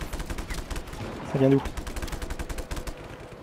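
Gunfire in the open-world action game Just Cause 3, rapid machine-gun bursts rattling steadily throughout, with someone briefly speaking French over the shooting midway.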